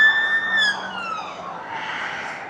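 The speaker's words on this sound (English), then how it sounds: "So there's a police car flying around." A police car siren wails as the car speeds past a cyclist on an English road, loud at first with rising and falling tones, then fading under steady wind rush.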